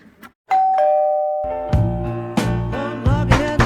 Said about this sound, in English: Somebody ringing the bell.